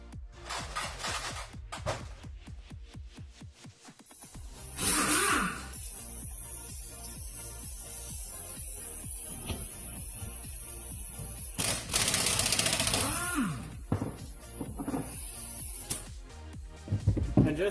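Pneumatic impact gun spinning a large pulley nut off a Nissan 350Z engine: loud, repeated rapid hammering bursts in short blasts, with a sustained high hiss of air between them, up close in a garage.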